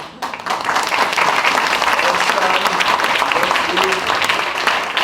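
An audience gives a big round of applause at the close of a memorial show, dense, sustained clapping that starts abruptly and carries on evenly to the end, with voices mixed in.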